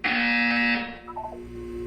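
A loud, sustained electronic buzzer tone in Portal 2 holds steady for most of a second, then cuts off, leaving faint room noise and a few brief soft tones.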